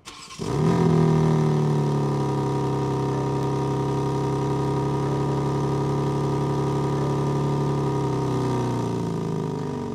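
A BMW M4 Competition convertible engine starts and holds a steady 3000 rpm in normal mode with exhaust closed, a loud, smooth droning hum continuing without talk for about ten seconds.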